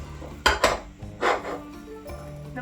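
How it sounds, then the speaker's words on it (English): A metal saucepan clanks as it is picked up and set down on a kitchen stovetop, three or four close knocks and scrapes against a low background hum. "Let me grab another saucepan."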